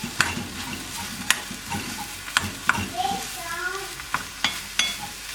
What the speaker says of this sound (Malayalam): എന്നിട്ട് നമുക്കിതൊന്ന് മൊത്തമായിട്ടൊന്ന് മിക്സ് ചെയ്ത് കൊടുക്കാം.